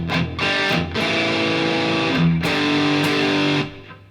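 A distorted electric guitar plays thick, sustained power chords in a short downstroked riff, loud and continuous with brief breaks between chord hits.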